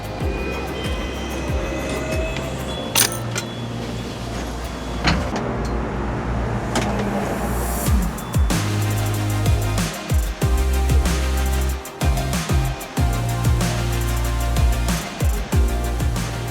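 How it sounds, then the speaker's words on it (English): Ride aboard an old Hong Kong double-decker Ding Ding tram, with a steady rolling motor rumble, intermittent clanks and rattles growing busier over time, heard from inside, no talk. "Ding Ding, which is this super old double-decker tram that Hong Kong uses as a public transport mode for more than 100 years now."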